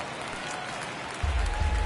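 Crowd applause from a baseball stadium in the video game MLB The Show, a steady wash of clapping and cheering that swells louder in the final moments.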